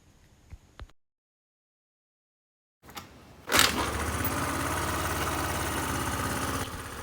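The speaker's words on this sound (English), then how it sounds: "It started in the first kick itself after the WD-40 was sprayed." A Honda Dio scooter with starting trouble catches on the first kick after WD-40 is sprayed, with a few quiet clicks, a pause, a kick and crank, then the small engine fires and settles into a steady close idle.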